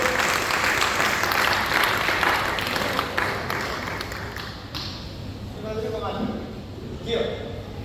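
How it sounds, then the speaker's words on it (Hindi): Loud audience applause for comic poet Rakesh Sharma at a humorous poetry gathering, dense clapping that gradually thins and fades while a voice begins speaking over it. "जोरदार तालियां बजाइए राकेश शर्मा।"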